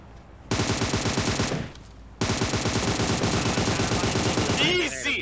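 Video game gunfire aimed at a car: rapid automatic bursts, a loud stretch, a brief pause, then another sustained burst ending in a sharp higher-pitched effect, with no voices.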